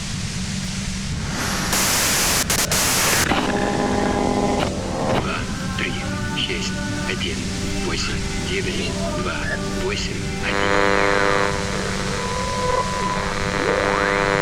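A short burst of harsh white-noise static from the video game Disco Elysium, lasting under two seconds, gives way to someone speaking over a soft musical backdrop.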